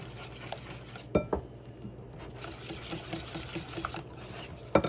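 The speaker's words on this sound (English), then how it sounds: "a tablespoon of vanilla, 1 egg, we're gonna get that combined first" Vanilla and an egg whisked together in a bowl for stuffed pancake batter, a steady close scraping stir broken by a few sharp clinks of utensil against the bowl.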